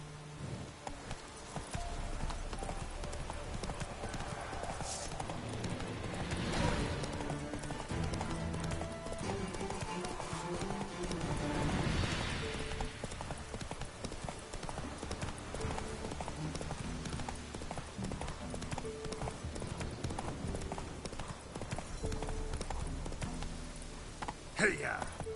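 Roach, a horse in the video game The Witcher 3: Wild Hunt, gallops in a continuous rhythmic clatter of hooves, fairly faint beneath game music and ambience.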